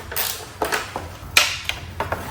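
Ratcheting and metallic clicks from a 10mm socket wrench loosening the front indicator on a Triumph Daytona motorcycle, several short close clicks and creaks spread unevenly with pauses.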